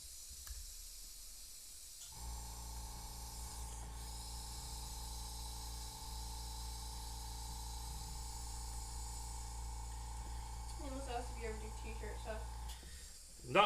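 Airbrush spraying paint onto a custom tattoo-style skull piece: a steady, close airy hiss with a low compressor hum begins after a short pause and runs unbroken, with a faint voice briefly near the end.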